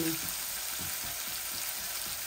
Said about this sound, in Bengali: এই মশলা দেওয়ার পরে আমি কষাইমু হাঁড়ির মধ্যে।